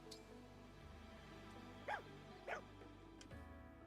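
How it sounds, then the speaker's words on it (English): A dog in a video game gives two short, faint barks about half a second apart over a low, steady background of game music. "Yes, there is a dog."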